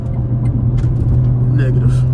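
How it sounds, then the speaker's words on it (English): A 500-horsepower BMW with turbos hums at a steady low-pitched drone, with faint higher whistling traces appearing near the end, heard from inside the car during a night drive. "If y'all can hear my turbos, bro."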